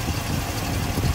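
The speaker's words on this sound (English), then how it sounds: "Okay, here it is started. Super nice and quiet engine." The crate 350 V8 engine of a 1985 GMC High Sierra truck idles smoothly and steadily with a low, even rumble, close and continuous.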